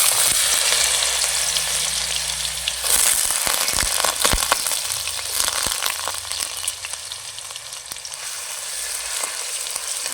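Carrot pieces sizzle and crackle steadily in hot oil with whole cumin seeds, a loud, close, continuous frying hiss with occasional sharp pops and stirring scrapes throughout.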